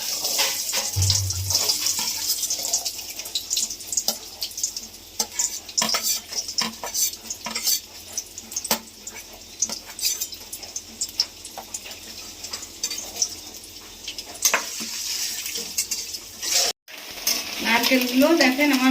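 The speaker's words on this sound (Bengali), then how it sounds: "এবার আমি নারকেলগুলো ভেজে নেব।" Coconut pieces frying in hot oil in a wok, a continuous close crackling sizzle broken by sharp stirring and scraping clicks, with a short gap near the end.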